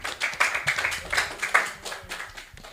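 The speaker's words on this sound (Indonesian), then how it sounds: "Tepuk tangan." A group of people clapping hands at a scout gathering, a quick burst of fairly close, uneven claps with no voices over it.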